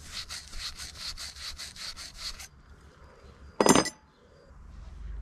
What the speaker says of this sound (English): it is critical to clean up the ends of the pipe with some abrasive